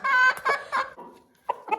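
Domestic hens clucking close by in a short series of throaty clucks with brief pauses between them, no talking.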